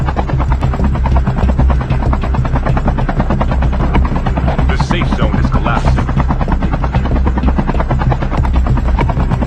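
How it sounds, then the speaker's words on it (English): A helicopter flies in the Call of Duty video game, its rotor a loud, steady, continuous thrum throughout. A game voice announcement cuts in briefly over it, with faint gunfire possible in the background. "I won't bother to waste time landing the chopper"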